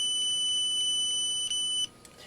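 A steady high-pitched electronic beep tone from the voltage tester on Sakerplus wire stripper pliers sounds continuously for about two seconds, then cuts off, followed by faint brief chirps; loud and close, no voices.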